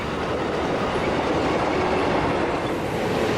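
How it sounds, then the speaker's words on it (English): Amtrak train 568, made up of single-level Horizon passenger cars and the Ocean View dome car, rolls past on the Del Mar coast line. It makes a loud, continuous rumble with a steady rhythmic clatter of wheels close by. "Train 568 is operating with a set of single-level Horizon passenger cars and Amtrak's last dome car, the Ocean View"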